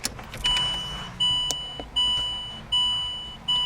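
A Range Rover Sport sounds a series of five clear electronic chimes as its ignition is switched on, evenly spaced about three-quarters of a second apart, close and alone over a quiet cabin hum.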